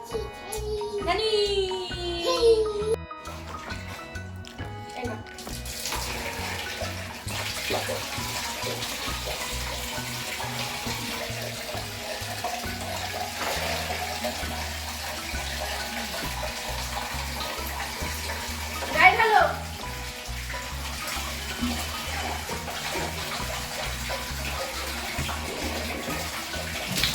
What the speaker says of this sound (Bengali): তো রুদ্রের আমার স্নান কমপ্লিট